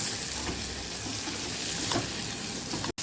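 Spices are stirred into tindora sambharo sizzling in a pan, giving a continuous frying hiss with soft scraping stirs that rise and fall, ending in a brief cut of silence.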